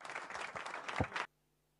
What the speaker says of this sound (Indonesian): Berikan tepuk sorak yang meriah buat Tuhan